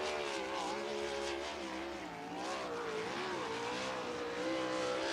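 USAC sprint cars racing at Lincoln Park track, a loud sustained engine roar with rising and falling pitch as cars power off a turn, steady and close throughout.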